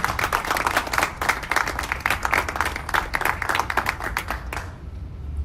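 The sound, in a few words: loud applause from audience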